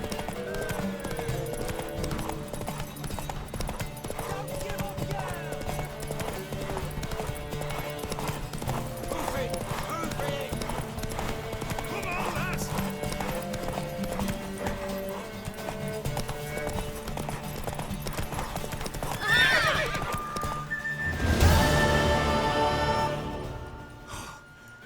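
Horse hooves galloping in The Witcher 3: Wild Hunt, steady rhythmic clip-clop under game music and ambience, with a louder burst and a whinny near the end as characters speak.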